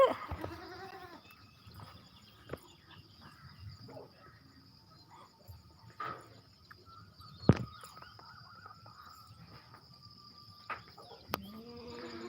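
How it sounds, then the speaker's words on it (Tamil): A black goat kid and its mother bleat faintly at the start and end, with quiet rural background of crickets and occasional knocks between the calls. "பிளாக் ஆட்டுக்குட்டி ஸோ நைஸ் இந்த பாருங்க தான் பிளாக் ஆட்டுக்குட்டி"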